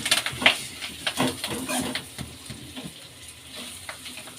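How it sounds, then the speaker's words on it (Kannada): Cumin, crushed pepper and curry leaves fry in oil in a pan for beetroot rasam, making a faint, uneven sizzle with light stirring clicks and a few brief crackles. "ಒಂಥರ ಎಣ್ಣೆಲಿ ಫ್ರೈ ಆಗಲಿ."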